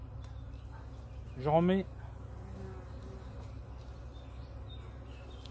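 Honeybees buzz around hive frames in a low, steady hum, with one brief, louder buzz as a bee passes close; a person says a few words.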